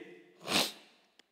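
A single sneeze bursts out mid-clip, loud and close, with a brief faint sound trailing after it and quiet room tone around it.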